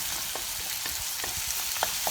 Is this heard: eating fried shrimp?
no